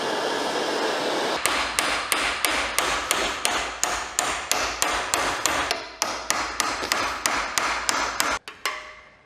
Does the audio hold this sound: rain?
no